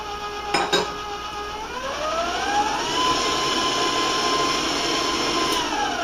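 An electric hand mixer whirs into cake batter with brown sugar for a coconut cake, starting with a couple of knocks, then rising in pitch and holding a steady, loud motor drone.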